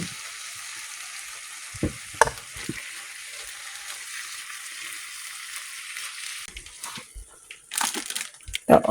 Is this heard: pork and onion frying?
yes